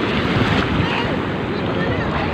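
Ocean waves wash steadily onto a white sand beach at Bolinao, Pangasinan, a constant broadband roar of surf mixed with wind buffeting the microphone, loud and unbroken throughout.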